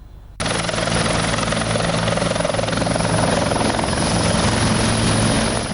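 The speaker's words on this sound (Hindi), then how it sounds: "आसमान से उतर रहे इस हेलीकॉप्टर में एक नेता सवार है।" A helicopter carrying a politician descends from the sky, its rotor chop and engine whine starting abruptly and then holding loud and close as a steady, continuous drone.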